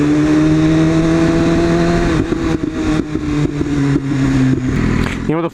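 A motorcycle named Nimbus runs steadily with a strong, close engine drone that shifts pitch partway through, as if changing speed, with wind noise mixed in.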